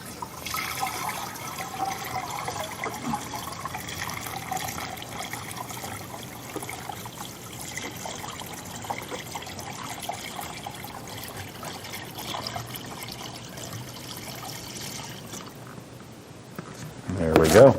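Sugar-free chocolate Italian ice mix poured into an Emery Thompson CB350 batch freezer, a steady liquid trickle and splash running throughout at moderate level, with a louder clatter at the very end.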